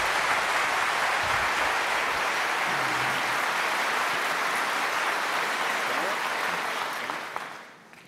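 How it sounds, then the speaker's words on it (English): A debate hall audience applauds to welcome two presidential candidates, Senators Obama and McCain, at the first 2008 presidential debate: sustained dense clapping that holds steady for about seven seconds, then fades out at the end. "No cheers, no applause, no noise of any kind, except right now as we welcome Senators Obama and McCain."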